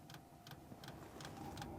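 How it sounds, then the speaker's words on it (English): A diesel heater starting up ticks in an even, rapid rhythm over a low steady hum of the flame burning, quiet and close by. "do you hear that? That's the sound of the flame going"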